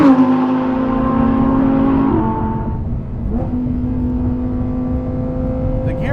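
Lamborghini Huracan STO engine heard from inside the carbon-paneled cabin with little sound deadening, a steady loud drone with shifting pitch that dips briefly mid-way, then settles into a continuous hum.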